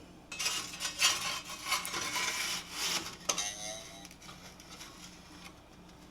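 A metal shovel scrapes and rubs against built-up debris inside a blocked chimney flue, producing a series of close, gritty scraping strokes that continue for several seconds before tapering off, with no talking.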